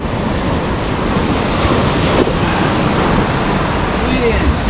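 Ocean surf rolls in at a beach along a mountain bike route near Almenara, Chilches and Moncofa, a steady broadband wash blended with wind noise buffeting the microphone, fairly loud and continuous throughout.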